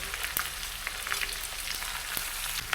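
Marinated prawns with green chillies and mint sizzle and fry steadily in a hot pan, a continuous close crackle with scattered sharper pops and no talking.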